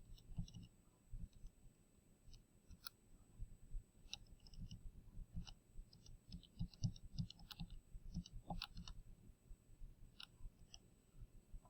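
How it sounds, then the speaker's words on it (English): Soft, quick button presses click in irregular bursts, like keys tapped on a small keypad, faint and close. "I'm typing this into the calculator."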